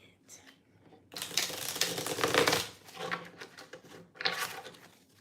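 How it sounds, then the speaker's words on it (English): A deck of cards is shuffled twice up close, a long riffling burst followed by a shorter one after a brief pause. "I'm gonna give this deck a shuffle."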